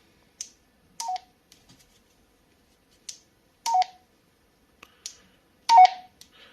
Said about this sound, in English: You can also activate the Roger beep, so you know where your transmission ends.